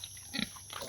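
Native piglets of the wild-boar type on a farm in Sorsogon give a brief, soft grunting snuffle, close by but faint, alone without talk.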